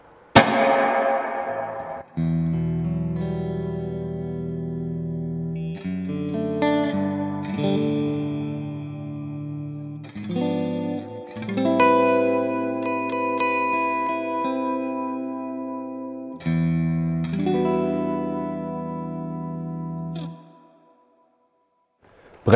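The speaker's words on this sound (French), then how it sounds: "je pourrais passer des heures à juste faire des accords avec cette reverb" Electric guitar chords strummed through Strymon reverb and modulation pedals on a pedalboard, each chord ringing out with lush, shimmering wash and long decay, played in several sustained phrases before fading to silence.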